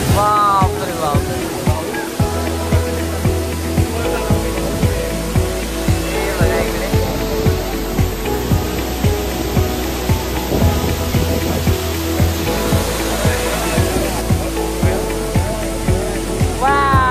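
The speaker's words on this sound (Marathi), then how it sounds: "धबधबा खूप अतिशय सुंदर असा" A steady, rushing roar of a waterfall fills the scene throughout, with people talking nearby over the water's constant noise.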